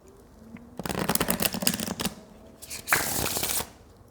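A deck of cards is riffled twice in quick succession, a crisp fluttering burst followed by a shorter second riffle, close and clear.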